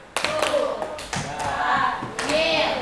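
A class of students claps a short rhythmic group pattern, the 'Tepuk Kudanil' hippo clap, in a classroom: a few sharp, close bursts of hand claps and taps with voices in between.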